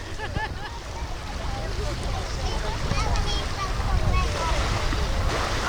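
Surf washing onto a sandy beach below a cliff at a Prince Edward Island park, a steady broadband rush with wind noise, rising slightly in loudness, and voices talking faintly through it.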